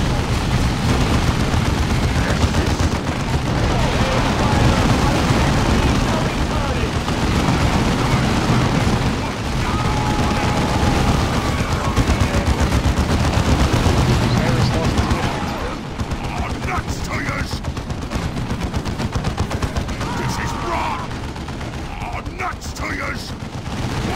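Gunfire and artillery from the Warhammer 40K Dawn of War 2 video game, dense continuous shots and blasts rolling on throughout, loud and busy, with voices talking faintly in the mix.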